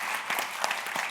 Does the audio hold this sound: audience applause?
yes